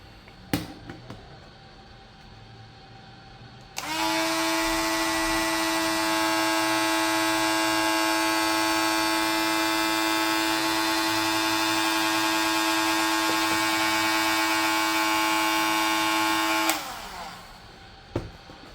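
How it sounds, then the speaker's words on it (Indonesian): Ironhoof 12V cordless mini angle grinder, a few faint clicks, then the motor spins up abruptly to a loud, steady high-pitched whine that holds evenly for about thirteen seconds before cutting off sharply. "Sekarang kita akan ukur RPM dari gerinda ini."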